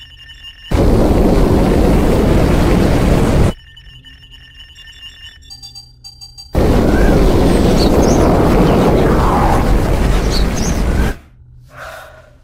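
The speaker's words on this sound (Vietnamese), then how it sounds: "Bắt đầu đốt cháy động cơ ion." A spacecraft's ion engine fires in a science-fiction film as two long, loud roaring blasts separated by a quieter gap with faint electronic tones, then cuts off abruptly at the end.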